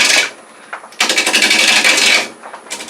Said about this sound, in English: Anchor the tool, ride the bevel, hold it down on the tool rest, and we're going to go from left to right